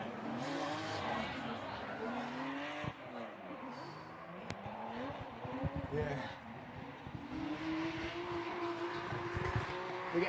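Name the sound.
drift car warming tyres by drifting on outlap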